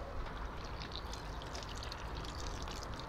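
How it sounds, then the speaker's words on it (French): Water poured steadily onto potting soil around a freshly repotted moringa or tamarind in a pot, a soft continuous trickling splash heard up close and fairly quiet. "je vais arroser mon pot"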